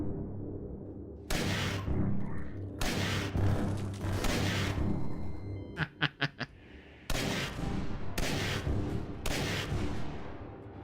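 Rapid autocannon bursts from a video game weapon in Division 3, several loud sustained volleys of gunfire separated by short gaps, with a quick stutter of sharp individual shots in the middle.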